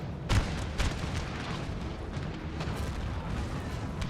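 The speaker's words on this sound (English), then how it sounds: "the guns can shoot along their length" Distant artillery cannon fire in a Napoleon: Total War battle: two dull booms early on, then a rumbling wash of far-off gunfire and battle noise, with no talk.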